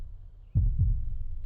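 Low, thudding heartbeat effect from the PGA 2K23 golf game, with two heavy throbs coming in after a quiet start and a dull hum continuing beneath them.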